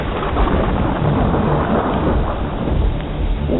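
Steady heavy rain with rolling thunder rumbling loud and close throughout, a continuous dense storm roar with no voices, used as the backdrop of an acid rain promo.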